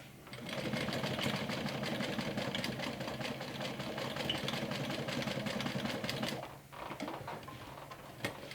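A sewing machine runs steadily, stitching fabric in an X pattern on a mini backpack, its fast mechanical whir continuous and close for about six seconds before briefly pausing and resuming.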